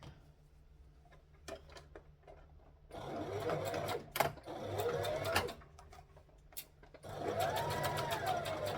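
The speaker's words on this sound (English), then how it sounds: "So I've got to come back here and top stitch here." A sewing machine runs in bursts while top stitching fabric for a Kwik Sew K4172 pattern, with a quiet whirring run, a pause with small clicks, then two more steady close-up runs.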